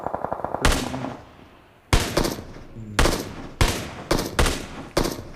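Bursts of automatic gunfire in PUBG Mobile, loud and close, several separate volleys with short pauses between them, no voices over the shots.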